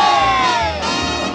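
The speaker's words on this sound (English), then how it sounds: "Come on, everyone, give a cheer." A crowd at a Fairmont College rally cheers and yells loudly together, a dense sustained roar of many voices with some high shouts rising above it.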